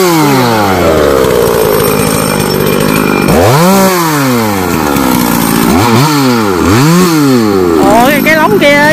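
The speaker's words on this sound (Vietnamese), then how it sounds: "Em cần cưa hạ gốc luôn." A loud chainsaw roars and revs repeatedly, pitch rising and falling as it cuts down a large yellow-flowered acacia tree, close by and continuous.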